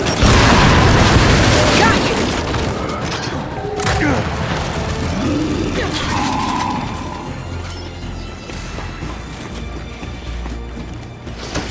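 Frag grenade detonating in Gears 5 co-op gameplay, a loud booming blast at the start that rumbles and fades over several seconds, with game effects following.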